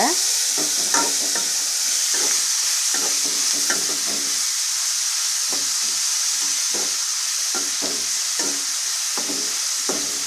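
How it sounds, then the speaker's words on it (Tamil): Tomatoes sauté in a pan for crab gravy under a constant loud sizzle and hiss, while a spoon stirs and scrapes in a loose rhythm of soft knocks. "அப்புறம் இந்த தக்காளியும் இதிலே சேர்த்துக்கலாம் எல்லாத்தையும் சேர்த்தாச்சு சேர்த்து இதை கொஞ்சம் வதக்கிக்கலாங்க"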